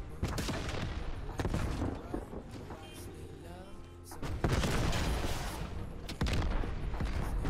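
Sniper gunfire and explosions in a shooter video game with tanks and rockets, heard as a dense, continuous barrage of loud cracks and booms with no pause.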